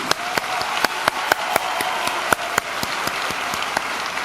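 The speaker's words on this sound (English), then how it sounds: "Let's give yourselves a round of applause, please." Audience applause at a school district convocation, a broad steady wash of many hands clapping with sharp individual claps popping out at irregular intervals, sustained and fairly loud throughout.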